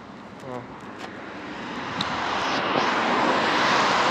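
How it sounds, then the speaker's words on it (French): A steady engine roar from two 2005 Mercedes G-Class V8s builds gradually louder, a broad rumbling drone that fills the background with a few faint tonal chirps early on. "je vais vous laisser avec les 2 classes G, avec le bruit des voitures derrière"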